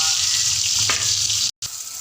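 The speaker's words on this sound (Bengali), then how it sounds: "পটলগুলোকে নাড়াচাড়া করে ভালো করে ভেজে নিতে হবে।" Pointed gourd crackles and sizzles in hot oil with a quick stirring scrape, the sound cutting out briefly near the end.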